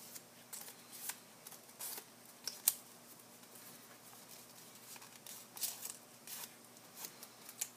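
Printed flower-patterned origami paper being folded and creased by hand, heard as soft, close crinkles and papery rustles arriving in short intermittent bursts over a quiet background, with no talking.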